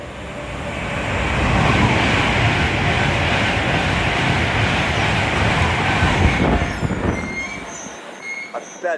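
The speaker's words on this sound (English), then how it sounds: "Platform 4 is going to be a Freightliner Pendolino going from Manchester to Piccadilly to London Euston" A Freightliner train rumbles loudly through Milton Keynes Central station on the West Coast Main Line, its wheels squealing and clattering close by before the noise drops away at the end.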